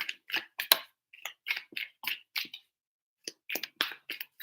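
Tarot cards shuffled by hand in three bursts, a run of quick crisp flicks and riffles with short gaps and a longer pause before the final shuffle, close and fairly quiet with no talking.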